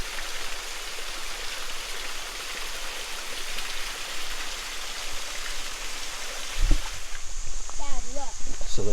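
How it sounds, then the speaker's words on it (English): Water pours down into a Kentucky cave entrance near Copperas Falls, a steady broadband rush of flowing water throughout, with a brief knock near the end and faint bird chirps over the last seconds. "All this water flowing down through there."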